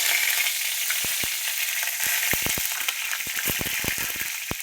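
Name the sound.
curry leaves crackling in hot oil tempering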